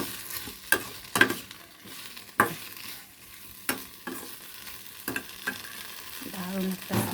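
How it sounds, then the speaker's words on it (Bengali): Hot water meets spiced masala that has been well fried in a pan, giving a sizzling, bubbling sound broken by sharp knocks and scrapes of stirring, with a steadier simmer toward the end. "এরপর আমি এর মধ্যে দিয়ে দেবো গরম জল।"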